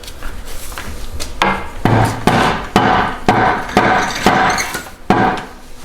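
A hammer taps a stuck Toyota part to break it free, about ten sharp, fairly loud strikes at an uneven pace of roughly one or two per second, ringing against metal in a garage.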